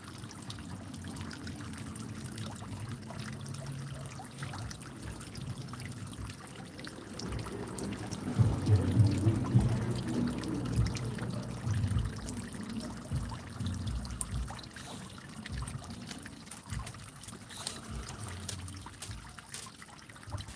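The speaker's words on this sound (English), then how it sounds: "Listen to the waterfalls and fountains." Water trickles and splashes continuously from the waterfalls and fountains of a sunny garden pond, a steady babbling stream that swells slightly midway, close and gentle.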